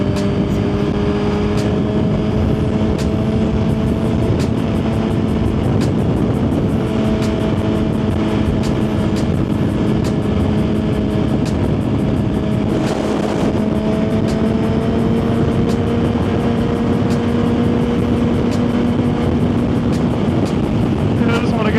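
A Suzuki GSX-R1000 motorcycle cruises a highway with a loud, continuous engine drone that rises and falls slightly, mixed with steady wind rush, close up and without pause.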